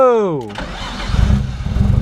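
A Nissan 240SX that has not been run for a while cranks and fires up, a brief whine giving way to a rough, loud, pulsing engine rumble as it catches, while someone speaks over the start.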